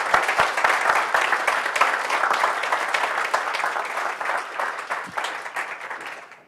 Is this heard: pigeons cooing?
no